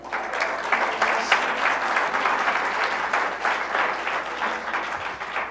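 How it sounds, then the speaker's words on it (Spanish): A church congregation claps together in praise during a Spanish-language service, a full, continuous round of applause with slight surges, fairly loud and close, with no speech over it. "Dale un aplauso al Señor."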